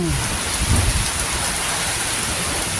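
Heavy rain pours steadily in a dense, loud hiss, with a low rumble briefly swelling near the start.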